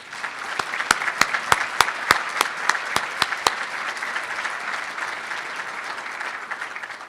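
Sustained round of applause from an audience at a scholarship appreciation brunch, dense clapping with a few sharp, distinct claps standing out early, fairly steady and unaccompanied by speech.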